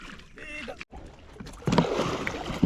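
A boat is paddled on a creek, with close splashes and knocks of the paddle against the water and the hull, then a louder rush of water and a gusty breeze in the microphone. Voices are faintly present.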